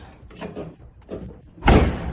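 A Chevrolet Cutlass door swung shut against a tight new seal, a single loud, close thud near the end after quieter shuffling and low voices.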